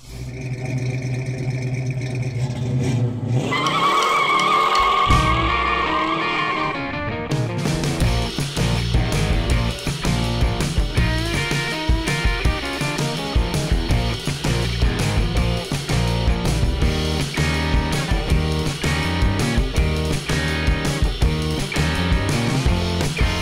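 A 1965 Mercury Comet engine with open headers cranks and then fires up, loud and raw, settling into a rough, choppy idle with sharp exhaust pulses that continue close by for the rest of the stretch.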